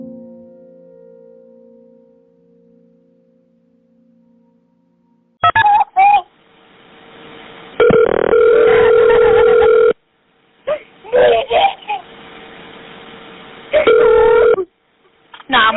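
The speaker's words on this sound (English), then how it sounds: "she picked up the phone and dialed 911" A phone dialing 911 for an emergency call: short bursts of keypad tones followed by longer steady ringing tones with gaps between them, clear and alone after a quiet stretch.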